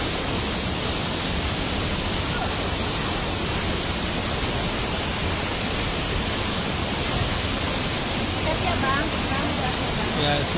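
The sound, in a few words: waterfall at Kedung Kayang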